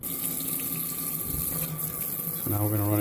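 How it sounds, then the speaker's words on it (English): Water runs steadily from a sink faucet while a washable K&N cold air intake filter is rinsed of soap, with a louder surge of flow near the end. "Now I'm gonna run it through the sink."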